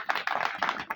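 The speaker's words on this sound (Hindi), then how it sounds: "तो उनको बुलाने से पहले हम सब जोरदार तालियां बजाएंगे उनके लिए" Audience clapping at a public event in Bhopal honoring Dr. Babasaheb Ambedkar, a brief loud patter of many hands close up with no talking over it.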